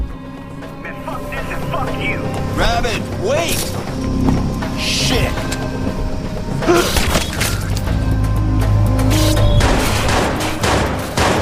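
Bursts of gunfire and heavy explosion booms from the video game Watch Dogs crowd a loud, dense mix, with a voice talking over the combat throughout.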